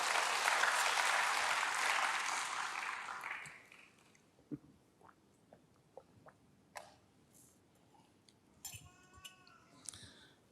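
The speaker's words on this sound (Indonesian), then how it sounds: "Berikan tepuk tangan bagi Tuhan." Church congregation applause during a sermon, a loud full burst of clapping that dies away after about three seconds, leaving a quiet room with scattered taps and small clinks.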